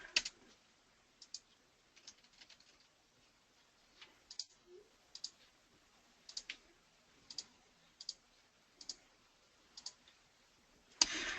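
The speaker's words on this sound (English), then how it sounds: "So I'm going to just type in some stuff here." Keys on a computer keyboard click in short, irregular bursts, quiet and close, with pauses between groups of keystrokes and no speech.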